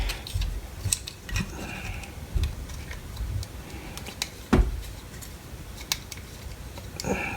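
Screws being tightened into a 3D printed fan part on a BIQU Kossel Plus printer kit, heard as scattered faint clicks, ticks and small taps at close range, with one sharper knock midway.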